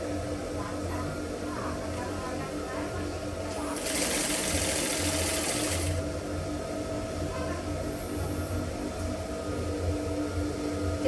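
Sewing machine stitching in a curve around stiff half-circle skirt fabric, a steady close mechanical hum with a louder, brighter burst of fast stitching partway through, amid a noisy room with faint voices.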